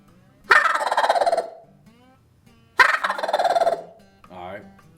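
A Haint turkey call is run with air into a gobble, sounding as two loud, rattling gobbling bursts of about a second each, separated by a pause, followed by a fainter trailing warble.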